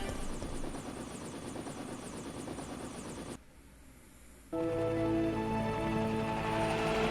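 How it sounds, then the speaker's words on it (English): Helicopter in the Resident Evil 3 video game: a loud, steady rotor chop and engine roar, briefly dropping away before returning louder and fuller, with no talking. "Carlos is conveniently there with a chopper"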